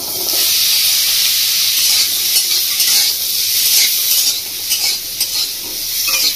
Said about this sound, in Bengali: ঘিটা গরম হয়ে গেছে, এবার আমি কেটে ধুয়ে রাখা রাঙা আলুগুলো দিয়ে দেবো।